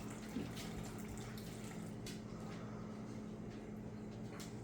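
Water pours steadily in a soft continuous trickle into soil, close by, with a faint background hum and no talking.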